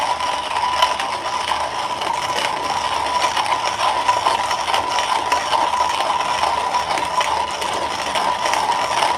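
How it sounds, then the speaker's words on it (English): Comandante hand coffee grinder crushing beans at a slightly finer-than-filter setting, a steady close gritty ratcheting crunch that runs continuously without pause. "the grind time on the Comandante is pretty long"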